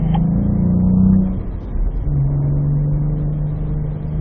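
Cadillac V-Performance car rolling onto a race track, its engine a steady close mid-pitched drone that swells around the first second, then settles into an even low hum with no talk over it.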